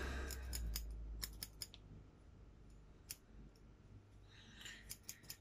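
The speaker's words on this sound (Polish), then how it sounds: "Nożyczki medyczne." Medical scissors snip through paper while parts are cut out for a card model of a Wellington bomber. There are several quick, crisp cuts in bursts, then a pause, then more snips close by.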